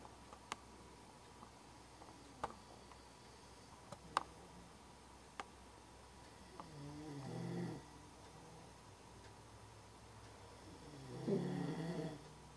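A man snores beside a dog in a quiet room, two slow, soft snore breaths rising several seconds apart, with faint scattered ticks in between.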